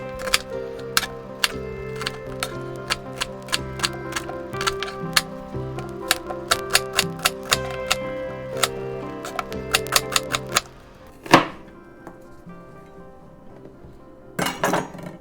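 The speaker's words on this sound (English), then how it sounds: "And then I start just roughly chopping my onions" Onions roughly chopped with a knife on a board in a kitchen: quick, rhythmic, close taps for about ten seconds, then a pause and a couple of scattered clattering sounds.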